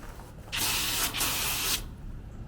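An HVAC Guys Coil Cannon sprays water onto lightly impacted condenser coils, a loud close hissing burst lasting about a second with a brief dip midway, between quieter background noise.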